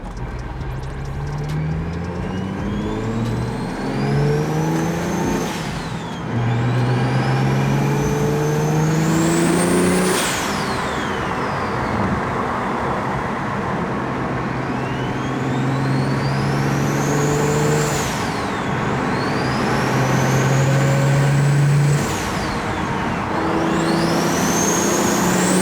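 A built BMW 335i with an N54 engine revs and pulls hard while driving, the engine climbing through gears with rising whines and turbo spool, loud and close, with no talking.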